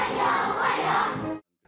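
A crowd of children cheers loudly at an official state welcome ceremony, a continuous high, bright roar of voices that cuts off abruptly near the end.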